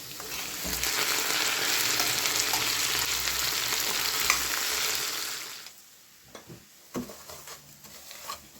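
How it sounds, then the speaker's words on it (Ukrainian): Potatoes sizzle steadily in a hot pan, the crackle easing after a few seconds, followed by a few light clinks and stirring noises. "я смажу картоплю"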